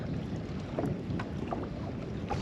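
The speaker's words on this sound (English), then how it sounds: "The weather said we would get up to about 10, 12 mile an hour winds today, and I think that they are rolling in right now." Wind gusts across a lake during a spring crappie fishing trip, rumbling against the microphone with low buffeting and light water and boat noises, fairly quiet and steady, no talking.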